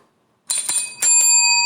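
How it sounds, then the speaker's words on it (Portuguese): A small hand bell, used as a classroom team game signal, rings in a few quick bright strikes followed by a sustained ringing tone, close and fairly loud with no talking. "o sino para eles tocarem."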